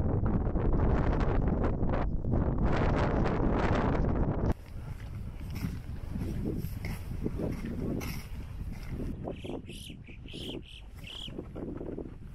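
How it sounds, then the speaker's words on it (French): Strong wind buffets the microphone during a steep mountain ascent on the GR20 trail in Corsica, a loud roaring rush that drops to a steadier, gusty hiss partway through, with no talking. "Mais là c'était une grosse ascension, beaucoup de vent, faut faire attention."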